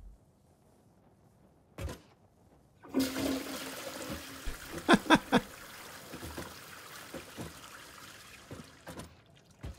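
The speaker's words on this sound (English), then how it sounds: "I really wanted that to actually make a flush noise." A toilet flush in the video game Satisfactory: a click, then a rushing gush of water with a few gurgling swells that tapers into a soft trickle, heard alone and fairly close.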